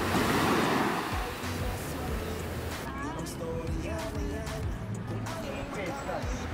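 Big ocean waves surging at La Union beach in San Juan, a loud rushing roar of surf that swells at the start then settles into a constant wash, with wind buffeting the microphone.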